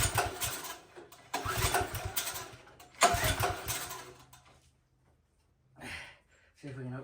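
Manco 126cc Dominator go-kart engine cranking and catching in several loud bursts of roughly a second or more each, separated by pauses, then dying away into near silence before short bursts of talk close it out.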